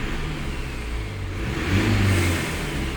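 A Mercedes OM654 diesel engine with a low boost pressure fault revs in a steady drone, then swells in a brief throttle blip near the middle before settling back.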